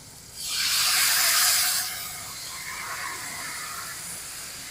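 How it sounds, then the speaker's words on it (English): White wine poured into a hot pan with prosciutto-stuffed chicken rolls bursts into a loud, close hiss that lasts about a second and a half, then settles into a softer steady sizzle. "now I'm going to add my ½ cup of white wine"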